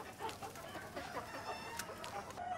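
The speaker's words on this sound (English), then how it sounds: "The young roosters flock together." A flock of young roosters clucks and chatters in short, overlapping calls, fairly faint and continuous, with no voices present.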